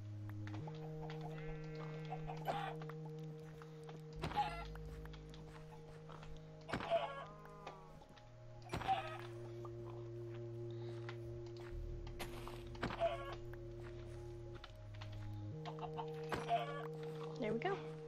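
Minecraft chickens in a Stoneblock 3 modpack cluck in short, scattered bursts over a steady electronic hum from game machinery, while a person talks throughout.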